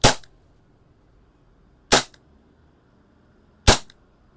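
Three sharp, loud shots from a WE and WG Delta airsoft revolver, spaced roughly two seconds apart, each a dry crack with a short tail and nothing else between them.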